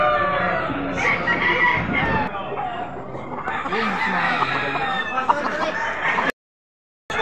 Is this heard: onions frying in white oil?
no